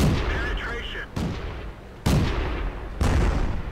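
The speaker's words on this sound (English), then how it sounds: "So artillery's certainly after me at this point" Artillery fire in World of Tanks, three heavy booming blasts spaced about a second apart, each loud and sharp at onset with a long rumbling decay, over constant battle noise.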